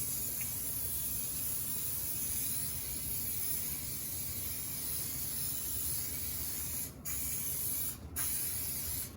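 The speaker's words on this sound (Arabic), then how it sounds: "وهلا هون بدي استعمل الكوكين سبراي على الجريل حتى لي ما احط كتير زيت" Cooking spray from a can hisses steadily onto a hot grill before fish is cooked, a loud, continuous close-up spray lasting several seconds with two brief breaks near the end.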